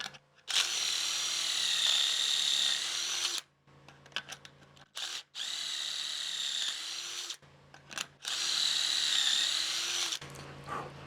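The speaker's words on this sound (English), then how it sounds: "Let me drill some holes." A power drill bores pocket holes through a pocket hole jig in three separate bursts, each a steady high whine lasting a couple of seconds, close and clear with short pauses and handling clicks between.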